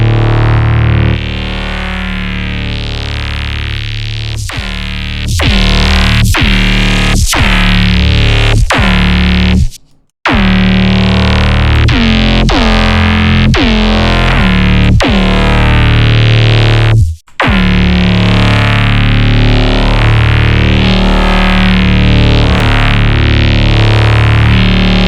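A loud, heavily compressed synth bass squashed by stacked OTT multiband compressors plays in sustained, gritty, buzzing notes with sharp rhythmic attacks. Two brief dropouts break up the otherwise dense, distorted tone.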